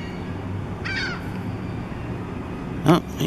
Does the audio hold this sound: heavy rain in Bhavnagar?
no